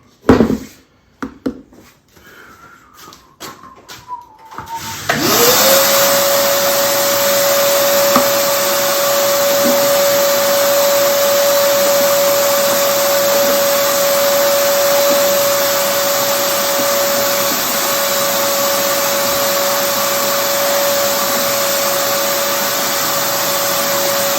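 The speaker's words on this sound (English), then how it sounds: "I'm gonna vacuum some of that dust off." A vacuum cleaner sucks sanding dust off a Martin 00-28 guitar body during side prep, starting with clattering handling noise before the motor spins up into a loud, steady whine that holds alone for about twenty seconds.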